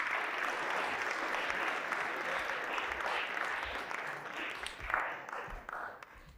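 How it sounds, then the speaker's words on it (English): An audience at a talk welcomes Charles Savage of EasyEquities with loud, sustained applause: dense, steady clapping from many hands, fading slightly toward the end. "please give Charles Savage from EasyEquities a warm round of applause"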